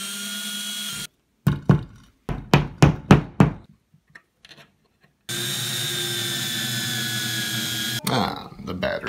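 A power drill drives number 8 screws and anchors into a wall to mount a Google Home Mini, several short whirring bursts in quick succession, then a pause and a longer steady mechanical hum.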